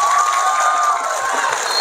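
Audience at a Maulid Nabi commemoration gathering clapping and cheering for a visiting sheikh, a steady dense wash of crowd noise lasting throughout, fairly loud and close with no clear speech over it.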